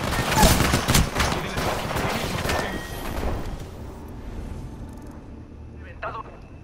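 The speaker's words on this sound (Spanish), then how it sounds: "¡Me están disparando!" Rapid automatic gunfire in a ranked Apex Legends match pounds loudly for several seconds, then thins out into scattered, fainter shots. A voice talks over the shooting.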